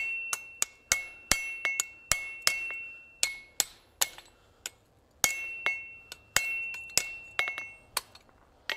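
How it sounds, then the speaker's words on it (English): A steel hardy tool is hammered flat on an anvil, giving sharp, ringing metallic strikes with short decays. They land in irregular bursts of two to four blows separated by brief pauses, close and clear with no talking. "Hammer that somewhat back down flat."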